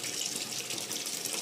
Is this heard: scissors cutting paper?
no